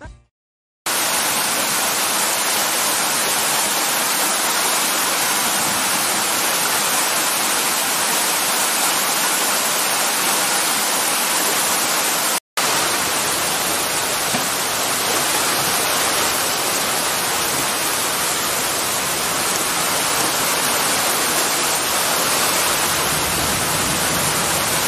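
Heavy storm water rushes and floods along a street in Porto Belo, a dense, continuous roar like a torrent, loud and close throughout, with a brief cut near the middle and no voices.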